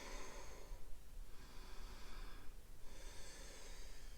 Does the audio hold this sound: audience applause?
no